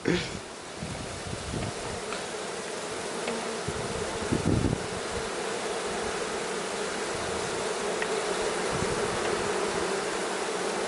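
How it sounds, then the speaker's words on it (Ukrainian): Dense, steady buzzing of many honey bees sensing a queen during queen introduction, close and continuous throughout, with a few brief louder knocks near the start. "Вже бджоли відчули, що десь є матка."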